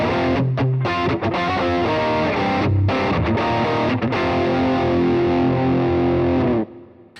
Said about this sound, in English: Here's a good classic rock kind of guitar tone, but with a kind of a different mid-range character about it